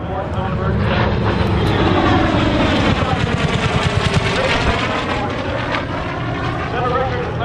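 A propeller-driven fighter aircraft with a bent gull wing, flying at the Oshkosh air show, makes a loud, steady engine drone. It sits under crowd and commentary noise, and the engine's pulsing beat stands out in the middle of the pass.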